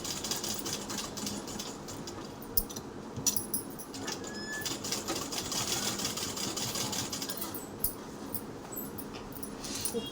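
A sewing machine stitches fabric with a fairly faint, steady mechanical whir broken by occasional sharp ticks and clicks, with no talking.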